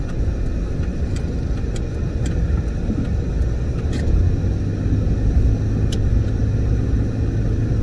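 A 1998 Ford Explorer engine gives a steady, low, continuous rumble close by as the truck is switched into four-wheel drive, with a few faint clicks over the drone.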